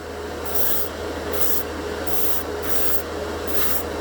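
Steady airbrush spray from a Master airbrush hissing in repeated bursts, roughly every half second, close and continuous over a low portable compressor hum.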